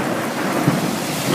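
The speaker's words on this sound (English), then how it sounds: "There's a thunder." Thunder rumbles low beneath steady heavy rain in a Montana storm, a deep swelling roll under the constant hiss of rainfall.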